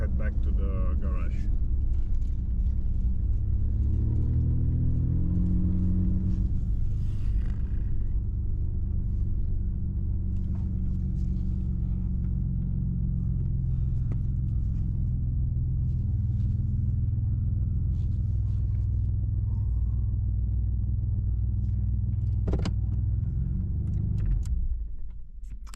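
A Ford Explorer drives steadily back toward a garage, its low engine and road rumble holding constant and close for most of the run before fading out at the end.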